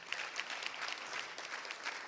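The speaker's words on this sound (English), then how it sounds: "Please give them applause." Audience applause at a public event marking completed expungements in Detroit, a steady wash of clapping hands throughout, moderately loud and close, with no speech over it.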